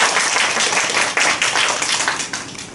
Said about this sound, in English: I do want to give each other a round of applause for that.